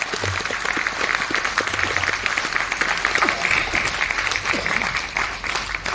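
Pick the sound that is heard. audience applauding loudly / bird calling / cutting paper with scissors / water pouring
audience applauding loudly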